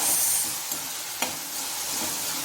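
Tomato sauce being stirred into chilli parotta in a pan, a steady soft scraping and sizzling mix with one brief clink of the utensil partway through, close and moderate in level.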